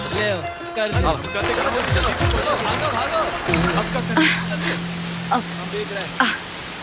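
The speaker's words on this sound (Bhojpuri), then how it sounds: "बारिश बहुत तेज होवत है।" Rain patters steadily on a surface under an ongoing dramatic scene, with people talking and shouting over it and a low hum joining midway.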